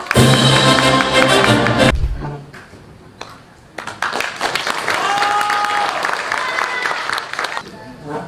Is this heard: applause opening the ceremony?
yes